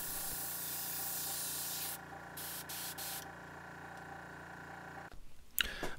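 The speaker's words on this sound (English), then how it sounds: "now that I've played around with the airbrush a little bit and gotten a feel for it" Gaahleri Ace series airbrush spraying paint onto a fishing lure, a steady close hiss that pauses in short bursts midway, then cuts off near the end with a few small clicks and handling noises.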